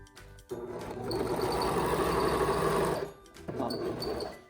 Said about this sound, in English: I'm going to first serge through my ties